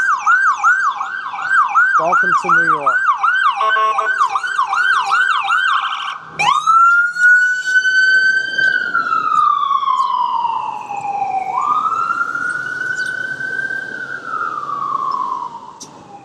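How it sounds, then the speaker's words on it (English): An ambulance siren on a New York street, loud and close, cycling through a fast yelp before switching to a slow rising-and-falling wail, with traffic noise beneath and a brief spoken remark over it. "There comes an ambulance."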